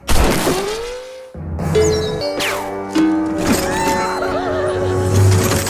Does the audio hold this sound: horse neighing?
yes